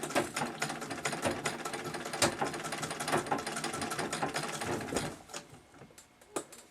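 A Singer 66 sewing machine runs at its largest stitch setting, a dense, steady mechanical clatter of rapid needle strokes that stops near the end, leaving a few faint clicks.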